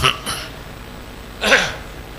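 A person gives a short, throaty cough or throat-clear during a religious talk, heard close and alone after a couple of faint earlier sounds.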